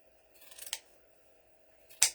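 Two crisp snips of pruning shears cutting through a hard, dry grapevine, the first preceded by a brief rustle, the second sharp and close after a short pause, with a faint hum underneath.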